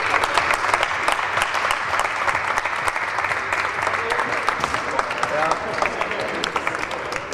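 Awards ceremony at an Estonian racketlon tournament: an audience claps in sustained, dense applause, loud and close, holding steady for about seven seconds.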